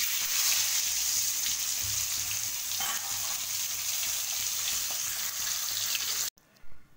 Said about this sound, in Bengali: এইভাবে যদি আমি ডিমগুলো দিই কড়াতে, তাহলে কিন্তু ছিটকানোর ভয়টা থাকছে না